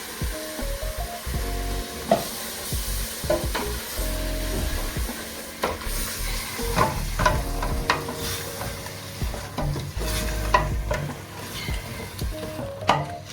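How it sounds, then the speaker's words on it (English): Blended tomatoes land in a hot, oily pan for beef pilau rice and are stirred, giving a continuous close sizzle broken by repeated spoon scrapes and knocks against the pan. "Straight away we are going to add our tomatoes, blended tomatoes."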